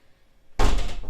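A door is slammed shut by the wind, a single loud close thud followed by a brief rattling rumble.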